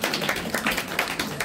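An audience at a literary event applauds to welcome a poetry reciter, with many hands clapping in a dense, even patter throughout.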